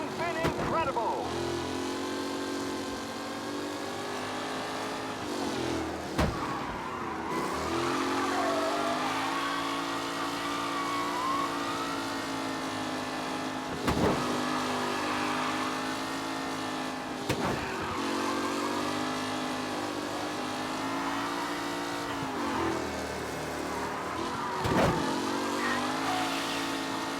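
Race cars in Mafia Definitive Edition, with engines droning and revving continuously, rising and falling in pitch as they pass. A commentator talks over the engines.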